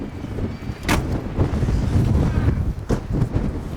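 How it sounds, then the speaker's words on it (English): Strong seaside wind hammers the microphone in low rumbling gusts, with sharp buffeting bursts cracking through a continuous blustery roar. "It's quite windy today."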